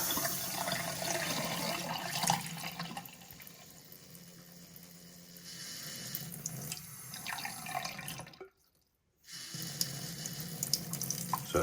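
Water runs from a Hansgrohe Laminar kitchen faucet at full flow, a steady broadband hiss splashing into the sink, then drops to silence for about a second when it is shut off and resumes.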